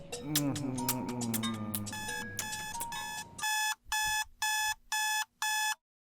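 An alarm clock goes off after a voice, sounding five loud, evenly spaced bursts of rapid electronic beeping, close and clear.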